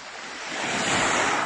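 Sea waves wash onto the shore of a cove on a windy day, a continuous broad surf roar that swells louder toward the end, with wind buffeting the microphone and no voices.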